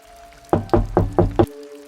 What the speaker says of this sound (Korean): 노크를 했더니 안에서 노크 소리가 들리길래